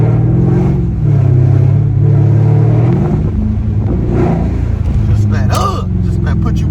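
A Mercedes-Benz CL550 coupe with a 5.5-liter V8 and modified exhaust accelerates hard, its loud, deep engine note rising steadily up close and filling the whole stretch.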